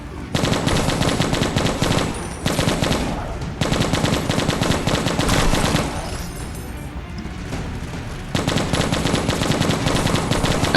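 A machine gun fires in the Left to Survive zombie shooter game, with long loud sustained bursts of rapid gunfire broken by short pauses and faint impacts under the shots.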